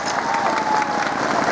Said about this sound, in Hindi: आप सभी लोगों से अनुरोध है कि जोरदार तालियों के साथ माननीय मुख्यमंत्री महोदय का स्वागत करें